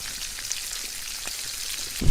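Meat sizzles while cooking over a fire outdoors in the jungle, a steady crackling hiss with scattered pops that swells louder at the very end.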